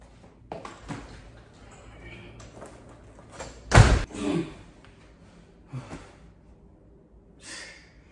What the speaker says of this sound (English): Man, always slamming that door loud.